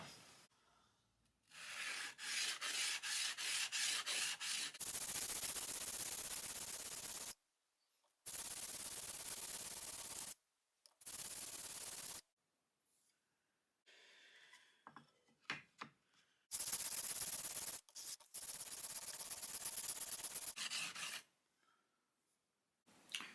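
A Parkside chisel from Lidl is sharpened on a stone, giving loud bursts of coarse rubbing and scraping strokes separated by brief pauses, close by and with no talk.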